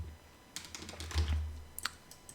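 A Ctrl+H key combination pressed on a computer keyboard while working in Maya, heard as a quick cluster of close, light keystroke clicks with a slightly heavier thump near the middle, no talking.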